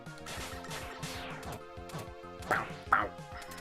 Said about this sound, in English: I love his little digital bark.